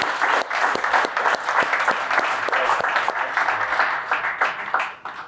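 An audience in a sports bar breaks into loud, sustained applause with individual claps standing out close by, the clapping holding strong and then tapering off at the end.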